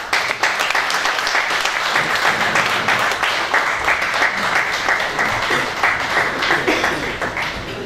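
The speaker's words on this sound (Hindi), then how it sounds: "आप सबकी भरपूर तालियों में जनाब शाहिद ज़की साहब।" A large audience at a mushaira (poetry gathering) claps continuously, a dense, loud wash of applause sustained throughout.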